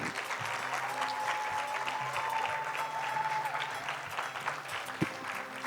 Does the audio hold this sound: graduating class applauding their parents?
yes